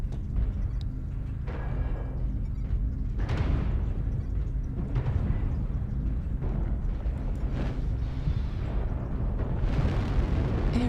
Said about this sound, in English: Airstrike online. Target spotted.